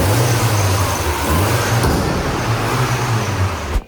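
A car engine idles steadily and loudly, its low rumble close and continuous with a slight rise in revs, as a restored car is tested after repair work; no talk is heard.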